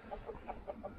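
Chickens cluck softly in a steady run of short, repeated notes, close by and fairly quiet, with no voices.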